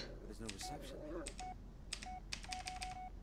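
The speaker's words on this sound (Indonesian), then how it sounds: "ada SMS masuk" Short chiming message alert tones in the horror game Blair Witch, several bright beeps repeating in quick bursts, with a voice talking over the first part.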